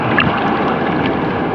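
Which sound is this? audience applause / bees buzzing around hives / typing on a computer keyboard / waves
waves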